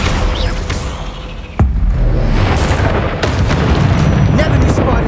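A Bombarda spell detonates in Hogwarts Legacy inside a decaying catacomb, a loud booming blast that cuts the ambience sharply, followed by a sustained rumbling roar and scattered debris crackle, with voices speaking over it.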